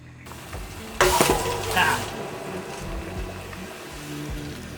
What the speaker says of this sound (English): I do it until kind of this sizzling sound stops.